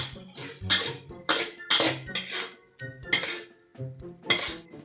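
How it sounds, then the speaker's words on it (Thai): Prawns are stirred in salted egg sauce in a pan, with a rhythmic series of loud, close metallic scrapes and clanks from the utensil against the pan. "พอผัดซอสเข้ากับกุ้งดีแล้วนะครับผม"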